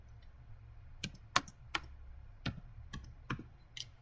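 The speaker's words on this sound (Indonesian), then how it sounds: "Langsung saja kita ketikkan rm" Separate keystrokes on a computer keyboard while a short rm command is entered in a Linux terminal, about ten sharp clicks in an uneven rhythm, close and fairly quiet over a faint low hum.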